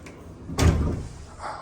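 A cabin door on the Star Wars Galactic Starcruise hotel ship closes with a single solid thud, followed by a faint short hum as it settles, heard up close in a quiet room.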